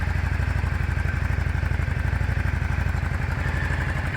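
A Yamaha Drag Star 400 motorcycle engine, freshly serviced carburetors, runs at a steady idle close by, its even low thumping pulses continuous and unbroken.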